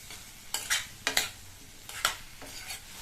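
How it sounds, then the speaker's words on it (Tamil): Boiled baby potatoes being sautéed in masala in a pan over a high flame, with a soft sizzle and four or five sharp, bursting spatula scrapes and stirs spaced about half a second apart. "இந்த மசாலாலையே இந்த உருளைக்கிழங்க நல்லா வதக்கி விட்டுக்கணும். ஒரு 2 நிமிஷத்துக்கு நல்லா ஹை ஃப்ளேம்ல வச்சு வதக்கி விட்டுக்கங்க"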